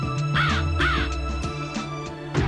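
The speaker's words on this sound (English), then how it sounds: "Birds over here." Crows cawing in the video game The Ring: Terror's Realm, several harsh, rasping caws repeating in a steady rhythm over a sustained low droning background, fairly close and clear.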